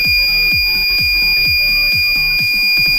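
An Arduino buzzer set off by a PIR motion sensor sounds a continuous loud, piercing electronic tone close by, with a rapid rhythmic pulsing beneath it throughout.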